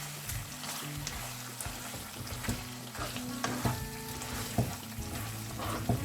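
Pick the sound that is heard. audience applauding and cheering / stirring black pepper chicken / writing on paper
stirring black pepper chicken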